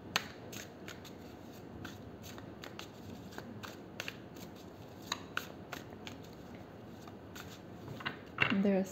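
A Modern Spellcaster's tarot deck is shuffled in a run of quick, soft riffling flicks and card slaps at close range, fairly quiet, ending with a louder burst of handling.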